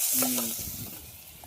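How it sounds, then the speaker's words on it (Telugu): Brief soft sizzling of ginger garlic paste frying in a pan, with a short hum of a voice near the start. "పచ్చివాసన పోయిన దాకా వేయించుకోవాలి."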